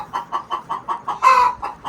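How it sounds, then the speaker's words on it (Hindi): Chickens cluck in a quick repeating rhythm, then one lets out a louder, drawn-out squawk before the clucking resumes, close by. "मुर्गियों का हो गया है झगड़ा"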